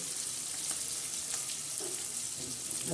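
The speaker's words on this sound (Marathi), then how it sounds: "हा कांदा आणि टमाटे परतून गेलेला आहे" Onion and tomato sauté in a pan for a Marathi ridge gourd vegetable dish, giving a steady, gentle sizzle throughout with no talk.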